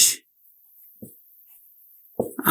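A teacher writes on a board during a grammar lesson, producing a few brief, faint scratchy strokes separated by near silence, with a slightly louder cluster at the end.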